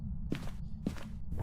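Krampus's heavy footsteps in the horror game Phasmophobia: three loud, evenly spaced thuds close by.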